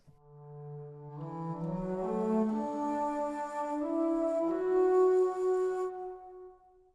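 A deep, breathy bass flute plays a slow, smooth melody alone, notes gliding and swelling softly before fading out.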